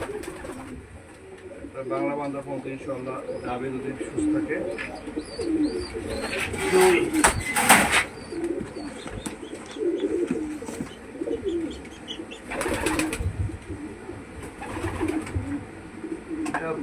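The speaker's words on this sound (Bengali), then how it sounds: "হ্যাঁ লং এর কবুতর" Pigeons cooing steadily in the background at a loft, low rolling calls running beneath a voice, with some rustling and brief louder bursts.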